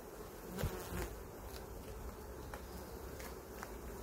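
A honeybee colony buzzes as a steady, faint hum of many bees around the open hive, with a few brief clicks and knocks near the start.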